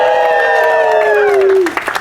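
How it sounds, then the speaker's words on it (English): A wedding ceremony audience in Palm Springs lets out a long, loud whooping cheer that slides downward, and a burst of applause and crowd noise breaks out as the cheer ends. "Round of applause."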